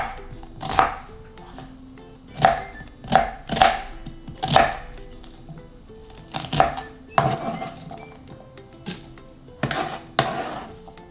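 An onion is chopped with a knife on a cutting board in a home kitchen, giving about a dozen sharp, close knocks in irregular bursts with short quiet gaps between them.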